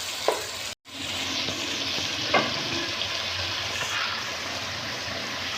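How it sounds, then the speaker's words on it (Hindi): Minced meat frying with spices in a pan, a continuous close sizzle with occasional scraping stirs and brief clatters, after a momentary gap early on, no talking. "अभी हमारा गोश्त खूब अच्छी तरह से भुन गया है"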